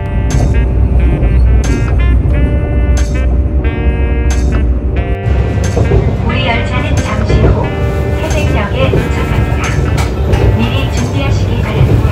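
Passenger train ride from Cheongnyangni toward Taebaek on a winter morning, a steady rumbling rail hum with rattling carriage noise and clicking track sounds throughout, people talking over it.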